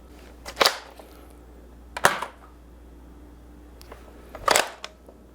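Nerf dart blaster firing through a chronograph: three sharp pops spaced a second or two apart with a faint click between, close and clear in a quiet room.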